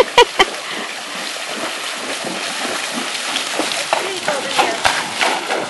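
Buckskin walking horse wading through a creek, soft steady splashing of hooves in shallow water at middle distance, with people talking over it.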